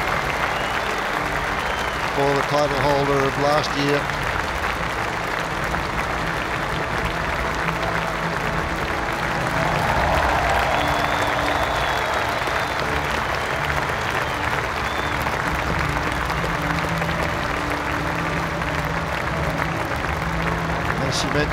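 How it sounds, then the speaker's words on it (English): Crowd applause at Roland-Garros for Sharapova after the 2013 women's final, sustained clapping filling the stadium for the full length while an announcer talks over it and a few musical tones sound briefly. "Fabulous round of applause"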